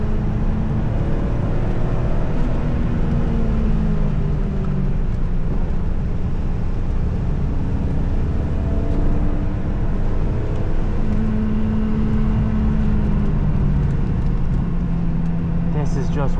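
Mazda Miata driving on the Nurburgring, a steady engine drone with gliding pitch shifts as it works through the gears, loud and continuous against constant road and wind roar with no talk.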